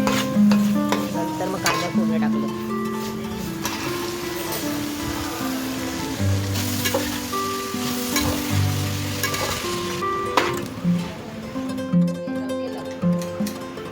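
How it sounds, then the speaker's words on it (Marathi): Cabbage and chana dal sizzling in a pan, a steady close frying hiss with repeated stirring scrapes and clatters over fourteen seconds, no talking. "कोबीची भाजी टाकते कोबी आहे आणि कोबीची भाजी टाकते चण्याची डाळ थोडीशी शिजवून घेतली"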